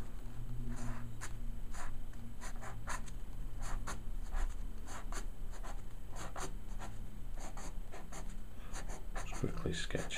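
Pencil scratching out a quick sketch of a toothy shadow demon creature on paper: steady, close strokes in rapid bursts of scribbling that run the whole time with no talking.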